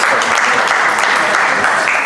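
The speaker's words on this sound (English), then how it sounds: "Please, round of applause to Adel." Loud, close audience applause welcomes a speaker onto the stage at a crypto talk, a thick continuous burst of many hands clapping for about two seconds.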